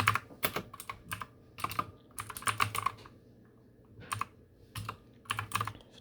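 Rapid bursts of computer keyboard typing while entering commands during Minecraft server setup on a Windows PC, close and crisp, with irregular clusters of keystrokes separated by short pauses and no talk.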